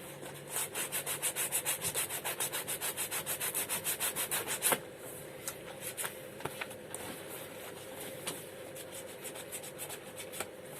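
Rough sanding of a men's boot sole to key the surface before a new sole is fitted: a fast, regular train of close rasping strokes that stops abruptly, then gives way to slower, lighter, irregular scrubbing.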